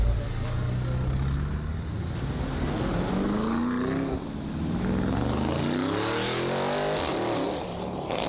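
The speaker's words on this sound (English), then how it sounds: "my mans who's in his Lamborghini is following my other mans who's also in his Lamborghini" Two Lamborghini sports cars driving one behind the other, a steady engine drone with rising and falling revs as they accelerate and shift, fairly close and continuous.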